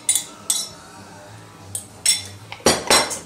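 A metal spoon clinks against a dish while filling is gently mixed into potatoes for a gluten-free vegan Irish potato pie, giving several sharp separate taps and scrapes in an irregular rhythm, close and clear with no talk.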